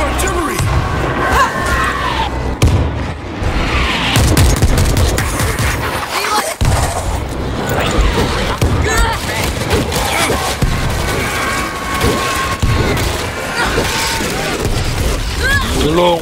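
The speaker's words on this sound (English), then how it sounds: "I think I just called in the artillery" Artillery barrage called in by army radio in World War Z at a New York evac center: a dense, loud fusillade of booming blasts and gunfire rolling continuously, with voices heard beneath the explosions.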